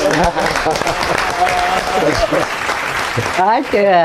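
Studio audience applause at an Eid al-Fitr TV show: a dense, steady wash of clapping for about three and a half seconds, then a voice speaks over its fading end.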